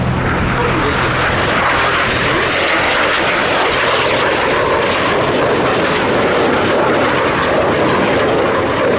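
A pair of BAC Strikemaster jets in Omani colours make a display flypast at the Duxford summer air show, a loud, continuous engine roar with faint announcer commentary beneath.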